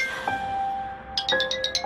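A phone's electronic ringing tone sounds in steady repeated pulses, with a rapid burst of bright chirping beeps near the end.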